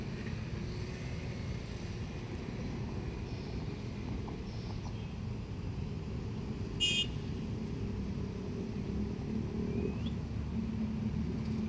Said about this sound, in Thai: รถก็จะผ่านไปผ่านมาตลอด